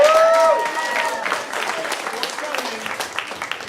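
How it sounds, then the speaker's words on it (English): Audience at a comedy improv tournament applauding, a moderate wash of clapping starting under a voice with a brief tone at the start, continuing steadily at mid level for a few seconds. "a round of applause for all of you for making it out here"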